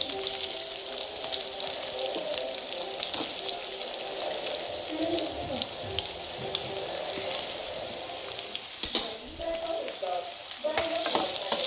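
Vegetables being sautéed in a pan, a continuous close frying sizzle with steady stirring scrapes and a few louder clanks of the spoon against the pan, no talking.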